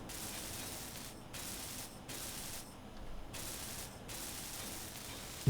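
A welding tool in Space Engineers hisses and sputters in steady bursts of spraying noise, cutting off briefly between runs, close and continuous with no talk.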